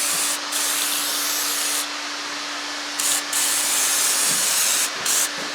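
Lanolin rust protection sprayed onto a newly installed sway bar link on a Hyundai Santa Fe: several short hissing bursts, close and fairly loud, over a steady low hum.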